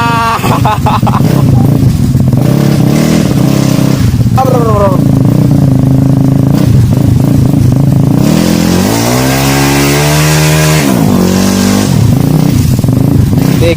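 A motorcycle stuck in mud, its engine loud and close, revving repeatedly in rising and falling surges with people talking over it.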